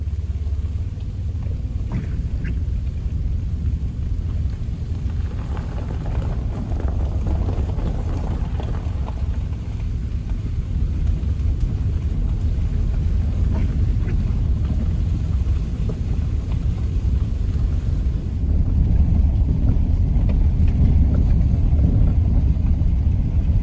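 Strong wind buffets the microphone on an exposed mountain top, a steady low roar and rumble that swells louder near the end, with no talking.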